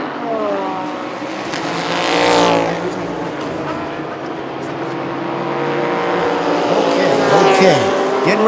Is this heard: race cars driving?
yes